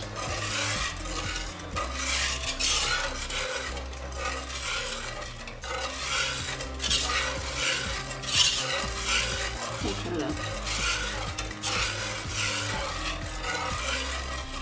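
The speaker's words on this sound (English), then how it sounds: "You're gonna whisk in the cheese in a figure-8 motion" Cheese being whisked into a mac and cheese sauce in a pan, with a steady scraping, rasping stir and soft sizzling running continuously at close range, no voices.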